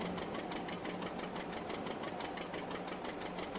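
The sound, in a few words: Hercules tractor engine left running, from a video game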